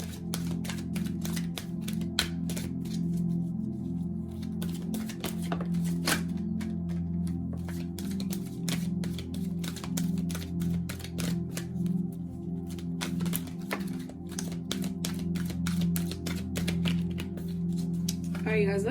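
Rapid crisp riffling of a card-reading deck, repeated in quick flurries of clicks over a low steady hum, continuing for the whole stretch.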